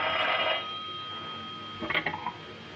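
An old-fashioned telephone bell rings steadily in a 1930s office setting, a sustained metallic ring with a brief clatter of handling near the end and no one speaking.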